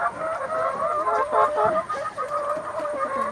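BV380 chickens being handled during deworming cluck and murmur in a continuous, close, busy chorus of overlapping calls, with no voices.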